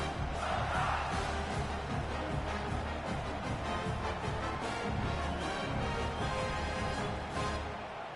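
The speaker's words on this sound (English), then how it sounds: "This crowd is re-energized." Video game stadium crowd at a College Football 26 Alabama versus South Carolina game, a dense, steady roar of cheering fans filling the whole stretch at moderate level.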